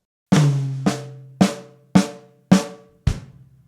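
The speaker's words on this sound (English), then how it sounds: "So I'm going to take the flam, I'm going to put it on the first tom," Drum kit lick with a flam on the first tom and the remaining notes on the snare: six separate resonant hits spaced about half a second apart, each ringing briefly before the next, close and clear with no talk.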